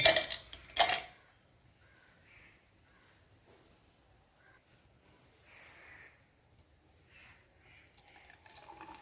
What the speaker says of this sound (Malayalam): അതിലേക്ക് ഒരു 2-3 ഐസ് ക്യൂബ് ഇട്ട് കൊടുക്കാം